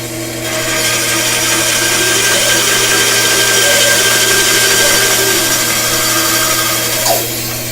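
A bandsaw cuts through an acrylic (acrylester) pen blank with a loud, steady, continuous whirring drone over a low motor hum. The whine holds nearly unchanged throughout, with a small blip near the end and no talking.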